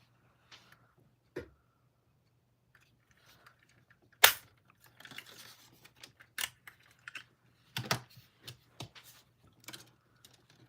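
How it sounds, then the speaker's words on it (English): A small circle punch cutting a shape from paper for a stamping craft gives a few sharp, isolated clicks and snaps in a quiet room, spaced out with faint handling rustles between them. "I've got a little circle punch here that I'm going to cut my high out with"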